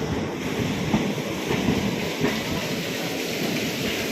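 A train on the Konkan Railway rumbles through a short tunnel with a dense, roaring wash of noise and faint rhythmic clatter, enclosed and loud throughout.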